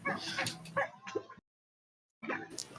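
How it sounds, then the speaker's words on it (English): A dog barks and whimpers in short yipping bursts at moderate distance, with a silent gap before the sounds return briefly. "Why did I hear a dog?"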